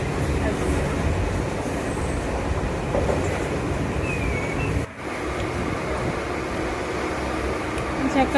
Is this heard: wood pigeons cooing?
no